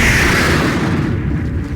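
Heat Wave cannon dragon attack in the Roblox game Blox Fruits erupts as a loud, sustained fiery blast with a rushing roar that fades slightly toward the end.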